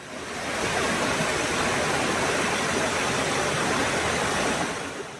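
A small waterfall in a mountain valley stream in Gyeonggi Province, South Korea, pours steadily, a constant broad rush of falling water with no other sounds.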